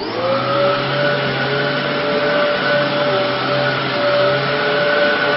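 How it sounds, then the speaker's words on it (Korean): A household vacuum cleaner runs continuously indoors, a loud, steady motor whine with a constant airy roar and no variation over several seconds. "앞으로 집에서 청소기 돌리실 때마다"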